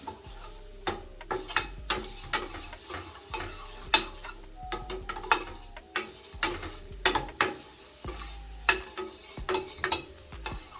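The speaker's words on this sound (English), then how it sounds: "now mix that in with the onion and make sure you allow the flour to cook before adding anything else" A spoon stirs flour into cooking onions in a pan for a potato pie: repeated clacking, scraping strokes in an irregular rhythm over a faint sizzle, close and clear.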